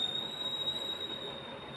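A metro train sound effect: a steady rumble of rolling wheels with a sustained high whine above it, continuous and moderately loud, with no voices.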